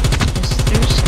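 Automatic gunfire in Call of Duty rattles out as a fast, continuous burst emptying a magazine, loud and dense with no gaps and no talk.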